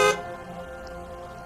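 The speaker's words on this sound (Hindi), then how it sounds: "तभी एक कार के हॉर्न से उनका ध्यान टूटा" A car horn gives one short, loud honk at the very start, then fades into a low, steady background hum.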